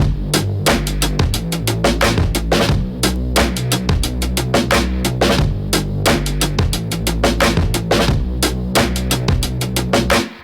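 A full beat of chopped drums over a deep, sustained bassline, steady and loud, with crisp hits repeating in a tight loop throughout.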